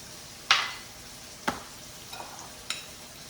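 Sugar and Bisquick being stirred together in a bowl: a few sharp scraping strokes, one loud and close, then softer scattered taps and scrapes with gaps between.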